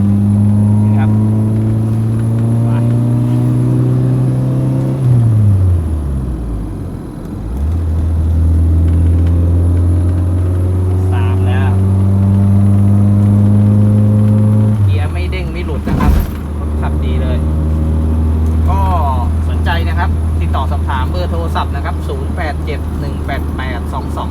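A 1992 Honda Civic four-door with a 1500cc carburetor engine idles steadily up close, its low hum dipping and rising twice as the revs change, while someone talks over it.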